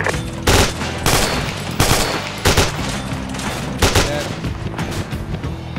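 Gunfire and mortar blasts in the military shooter game ArmA 2 during an assault on Feruz Abad, a dense run of loud shots and booming impacts with heavy thuds recurring every second or so, with a voice talking faintly in the mix.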